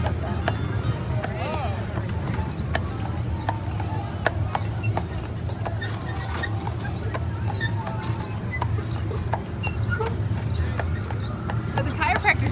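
Horse hooves clip-clop along Disneyland's Main Street U.S.A. as a horse-drawn trolley rolls by, in a steady, close rhythm of crisp knocks over a busy background murmur of people.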